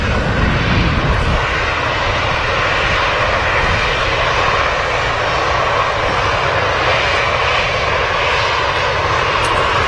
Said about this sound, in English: TUI Dreamliner just touched down as well behind it.